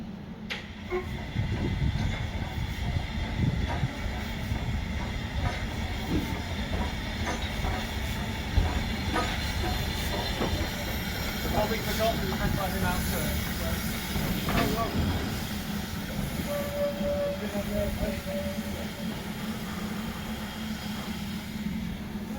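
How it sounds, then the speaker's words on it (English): Steam locomotive 43106 runs round onto platform 2 on the Severn Valley Railway, with a continuous low rumble, hissing steam and occasional clanks building over a long stretch, with murmured voices in the background. "43106 runs round onto platform 2 at the end of her turn."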